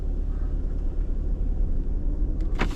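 A Ford Escape with worn wheel bearings drives at speed on a road test, giving a steady low rumble of engine and road noise throughout, with a brief louder bump near the end.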